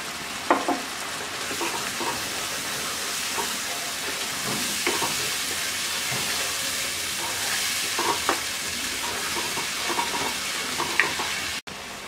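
Spinach frying in a pan, a continuous close sizzle with intermittent scraping and knocking of a utensil as it is stirred, ending with a brief sharp click.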